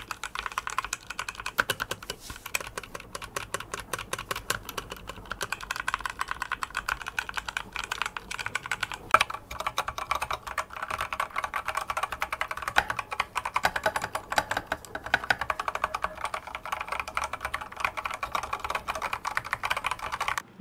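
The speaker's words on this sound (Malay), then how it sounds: "Korang boleh dengar dia punya keyboard test ni." Continuous typing on a Thunderobot K78 compact mechanical keyboard with ABS double-shot keycaps, a rapid, even stream of clacky keystrokes heard close and alone.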